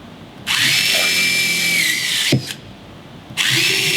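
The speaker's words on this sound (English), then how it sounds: "So I'll just drill another one." A power drill whines loudly as it bores into wood, two long bursts with a brief rev in between, close by.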